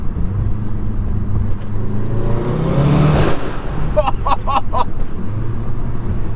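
A 2016 Stage 2 VW Golf R engine drones steadily, then a quick series of sharp crackling pops bursts from the exhaust on a DSG gearshift, loud and close.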